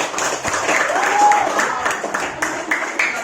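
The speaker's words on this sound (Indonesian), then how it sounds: "Beri tepuk tangan untuk teman-teman kita." Schoolchildren in an Indonesian classroom clap for their classmates, a close, brisk patter of many small hands that stays steady throughout, with a few voices mixed in.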